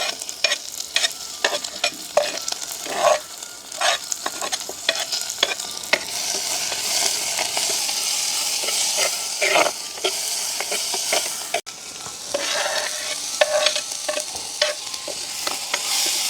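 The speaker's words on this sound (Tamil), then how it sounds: "வெங்காயம், பச்சை மிளகாய், தக்காளி பழம் எல்லாம் எங்களுக்கு வதங்கிட்டுது" Small onions, green chilli and tomato sautéing for a vada curry in a pan on a village stove, a loud sustained sizzle broken by frequent spatula scrapes and taps, with no voices.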